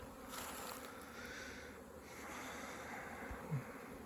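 A faint, steady buzz of many honeybees droning together at a hive settled in winter position, continuous and low, with no voices.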